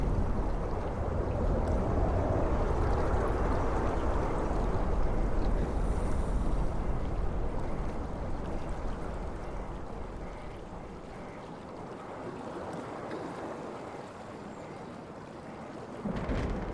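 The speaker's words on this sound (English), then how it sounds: "The storm is back." Stormy weather in a Frictional Games game: a broad, loud roar of wind and crashing waves with rumbling undertones fills the scene, easing slightly later before a final gust surges back.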